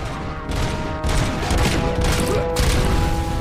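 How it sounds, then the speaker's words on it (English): Enemy gunfire from Robocop Rogue City: loud, dense rapid shots in a sustained barrage, swelling in bursts over roughly three seconds with a ringing tonal layer beneath. "apparently, he's still shooting me"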